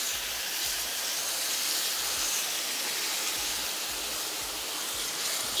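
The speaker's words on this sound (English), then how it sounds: "to our curry mixture, add in a cup and a half of coconut milk" Coconut milk is poured into a sauteing curry mixture for a vegetarian breadfruit curry, producing a steady close broadband hiss and sizzle that holds evenly throughout with no talking.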